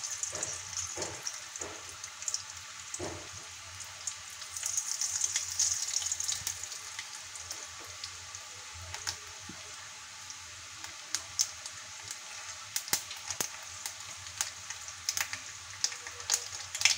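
Mustard seeds and urad dal tempering in hot oil crackle with scattered sharp pops over a faint hiss, quiet between bursts.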